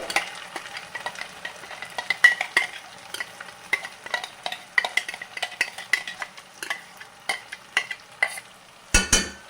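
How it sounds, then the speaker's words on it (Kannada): Ground masala fries and sizzles over a low flame while a spoon stirs it steadily in a pan for a paneer and makhana curry. Frequent scraping and tapping strokes sound close, with a louder clatter near the end. "ಈಗ ಮಸಾಲೆ ರುಬ್ಕೊಂಡಿದ್ರಲ್ಲ ನಾವು ಆ ಮಸಾಲೆ ಎಲ್ಲ ಹಾಕ್ಕೊಳ್ಳೋಣ. ಸಣ್ಣ ಉರಿ ಇಟ್ಕೊಂಡು ಹಾಕ್ಕೊಳ್ಳಿ,"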